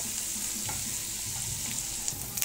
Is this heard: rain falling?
no